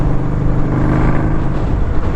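A 2021 Indian Scout Bobber motorcycle cruising in fourth gear: a loud, steady low engine grumble with a deep throbbing rumble, mixed with wind and road rush, continuous and close with no voices.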